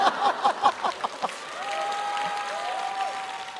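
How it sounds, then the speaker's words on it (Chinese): A studio audience at a televised comedy roast show breaks into steady applause after a brief burst of voices, the clapping continuing evenly for several seconds. "当时和现场一样，响起了雷鸣般的掌声。"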